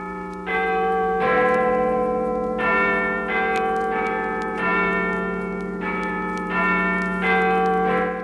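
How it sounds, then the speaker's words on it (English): A church bell rings in a steady sequence of resonant strikes, each ringing tone overlapping the last, clear and fairly close with no talking. "He woke to the church bell chiming the hour of one."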